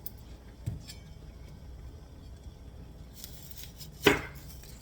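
A knife chops a medium onion in a quiet kitchen, giving a few faint, sparse cuts against a board, with one sharper, louder strike near the end over a low background hum.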